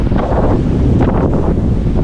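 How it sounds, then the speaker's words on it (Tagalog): Strong waves roll onto a beach at a resort in Cancun, Mexico, a dense, steady roar of surf mixed with heavy wind buffeting the microphone throughout. "malakas pa rin ang alon grabe"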